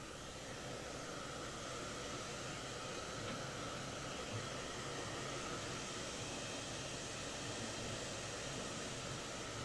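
Hair dryer blowing hair dry during a vintage-style haircut and styling, a steady loud whooshing hiss of airflow and motor that runs unbroken from start to finish with no speech.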